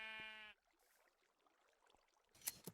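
Several sheep in Minecraft bleat in a loud, harmonic burst at the start, followed by quiet ambient game noise and a brief sharp click near the end.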